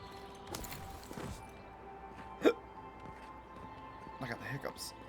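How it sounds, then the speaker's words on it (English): A single sharp hiccup stands out against a game's ambient background, a role-playing adventure with door and combat sounds, while someone talks around it. "I got the hiccups."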